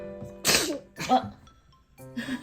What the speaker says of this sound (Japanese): 大丈夫。 くしゃみしたの。